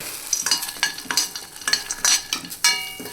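Nuts being stirred and sautéed in hot ghee for a carrot and foxnut dessert: quick scraping stirs and clinks over a lively sizzle, close and distinct, without speech.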